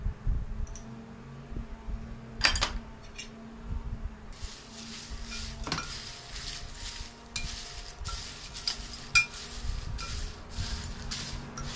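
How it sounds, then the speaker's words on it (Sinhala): Fried peanuts and chillies being mixed with chilli powder and salt: soft scraping and light clicks of a spoon against a bowl, with a few sharper taps scattered over a quiet background. "අපි දැන් මේක හොඳට මික්ස් කරගන්නවා"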